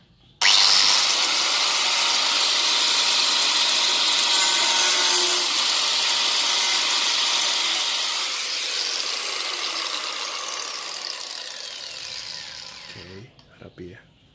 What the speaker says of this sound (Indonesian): Jadi kita potong pakai gerinda aja.